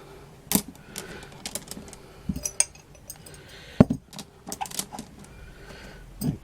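Glass pebbles clinking as they are dropped into a box: scattered sharp clicks and clatters, some in quick clusters, close and fairly crisp, with no talk.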